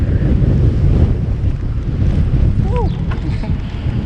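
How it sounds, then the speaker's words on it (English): Strong, loud wind buffeting the microphone in Aruba, a constant roar with surf-like rumble, and a few faint bird calls in the background. "It is quite windy here."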